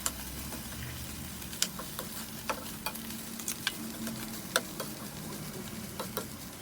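Rice stir-fried in a pan sizzles steadily and close, with a spatula scraping and tapping against the metal every second or so.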